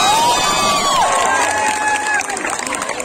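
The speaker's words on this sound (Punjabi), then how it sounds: "ਜ਼ੋਰਦਾਰ ਤਾੜੀਆਂ" Audience at a government college event in Bathinda erupting in loud applause and cheering, with whoops and high shouts over a thick wall of clapping that eases slightly near the end.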